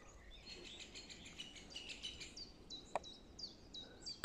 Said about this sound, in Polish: Takie odgłosy idą ptaków, że masakra.